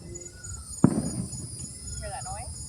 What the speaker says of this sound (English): Yeah, it's fireworks.